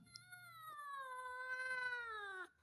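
A cat being bathed in cold weather lets out a single long, drawn-out wailing meow, close and clear, with faint background noise and no speech.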